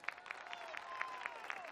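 A small audience at a concert gives the drummer a faint round of applause, made of soft, distinct claps in an uneven rhythm with a sustained musical tone underneath.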